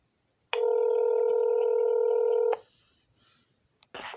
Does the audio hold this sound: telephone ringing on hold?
yes